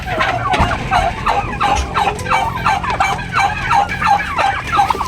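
Broad Breasted Black Bronze turkeys gobble loudly and repeatedly while being fed, a close, continuous chorus of rattling gobbles from several birds overlapping one another.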